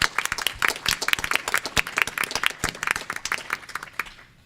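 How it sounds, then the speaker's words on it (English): A small conference audience claps for the outgoing CSWEP chair. The short burst of close, distinct hand claps fades out toward the end. "I actually think we should start this panel by giving her a round of applause for all the work that she did as CSWEP chair."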